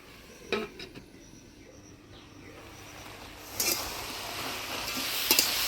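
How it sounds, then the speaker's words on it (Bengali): Taro leaves with green chillies are stirred in a pan: three separate clattering scrapes of a spatula against metal stand out over a soft, steady sizzle. "এবার কাঁচা লঙ্কা দিয়ে নাড়াচাড়া করে ঢাকা দিয়ে দেবো।"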